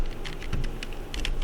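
A computer keyboard being typed on during spreadsheet work, a quick flurry of light key taps in an uneven rhythm, close and moderately soft, with no speech.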